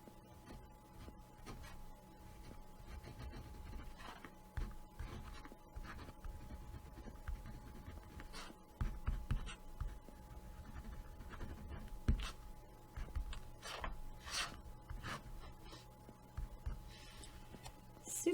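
A pen writes on paper in light, scratchy strokes that come in uneven bursts. The scribbling is close and faint over a quiet background hum.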